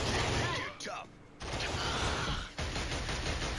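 Distant gunfire in the Killzone video game, from unseen enemies off in the fog: short bursts of shots in a foggy battlefield, broken by brief lulls, with a voice partly heard over it.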